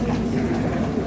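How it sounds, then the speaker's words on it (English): Steady low rumble and rolling clatter of a London Underground Hammersmith and City Line train running through the tunnel, continuous and fairly loud with no talk. "This is a Hammersmith and City Line train to Barking."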